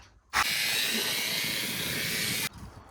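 A Ryobi RY18PW22A 18V battery-powered pressure washer switches on abruptly, runs as a loud, steady high-pitched motor whine with hissing spray for about two seconds on a driveway, then cuts off sharply.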